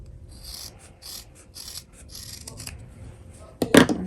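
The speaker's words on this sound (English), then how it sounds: "I'm gonna go ahead and trim just a little bit" Scissors trim the fabric of a handmade sewn handbag, a run of quick soft snips close by, ending in a louder, sharper cut near the end.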